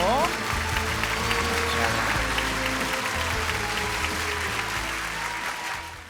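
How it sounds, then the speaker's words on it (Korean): Studio audience claps at length, a broad, even wash of many hands that carries on for several seconds and tapers slightly at the end, with background music and some voices beneath. "여러분 강철 같은 박수 한번 부탁드리고요"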